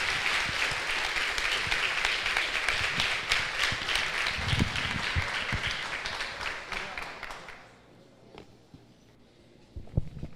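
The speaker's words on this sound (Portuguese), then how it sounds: "Come on, clap your hands." A church congregation at an international apostolic forum claps hands together in a loud, dense burst that holds for several seconds, then quickly fades out, leaving a few isolated claps and faint room sound.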